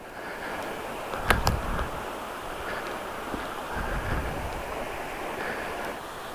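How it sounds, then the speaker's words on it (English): A waterfall beside an abandoned railroad bridge gives off a steady broadband rushing roar, mixed with wind buffeting and a couple of brief knocks near the start. "Another waterfall."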